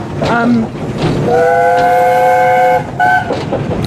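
Steam locomotive Oliver Cromwell running past on a heritage line, with loud chuffing and rumbling rail noise under a long, sustained multi-tone whistle that sounds twice.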